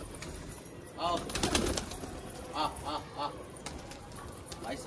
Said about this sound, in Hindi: भाई सारे कबूतर खा रहे हैं